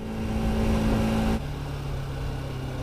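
A Bajaj Pulsar RS200 motorcycle engine accelerates with a steady loud drone, then drops to a lower, softer tone partway through as the revs change.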